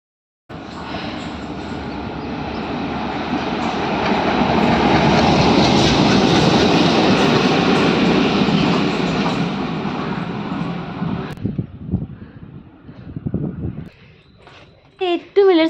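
A train rolls through Muthalamada railway station, a loud, steady roar of wheels and carriages that swells, holds for about ten seconds, then cuts off abruptly, leaving faint scattered rattles and brief sharp sounds.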